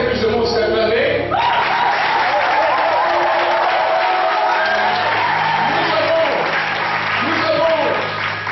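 Applause from an audience at a Bible school ceremony for a pastor, a sustained wash of clapping and crowd noise with a voice speaking over it throughout.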